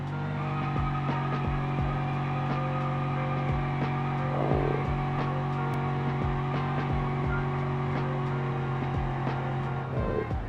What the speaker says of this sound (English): That was a nice clutch dump and burnout.